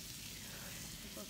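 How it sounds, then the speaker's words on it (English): A leg of lamb sizzling over an outdoor fire pit, giving a steady, faint hissing crackle throughout, with a voice talking softly over it. "You can probably hear the lamb sizzling away."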